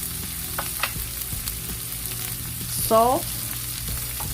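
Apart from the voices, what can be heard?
onions and peppers frying in hot oil in a skillet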